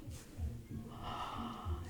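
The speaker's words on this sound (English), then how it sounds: "try breathing into your chest" Deep breaths drawn in toward the chest, a few audible inhalations close to the mic with faint breathy hiss between them.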